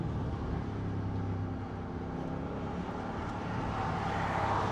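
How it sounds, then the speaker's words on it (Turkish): A V8 engine in an Audi RS Q8 with a valved exhaust rumbles low and steady, a continuous, fairly quiet engine note that swells slightly toward the end. "Bu V8 sesi alman lazım."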